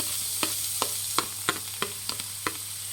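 Finely chopped onion frying in hot oil for radish Manchurian gives a steady close sizzle, with about eight sharp stirring clicks at roughly even intervals and no talking.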